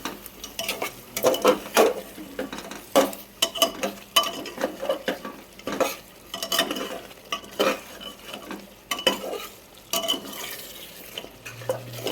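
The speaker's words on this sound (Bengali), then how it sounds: "তো এটাকে বেশ ভালো করে এবার কষাতে হবে।" Spiced chicken kosha, seasoned with coriander powder and a little sugar, being stirred in a pan, with repeated spatula scrapes and clinks against the metal over a faint background sizzle, close and fairly loud, with no talking.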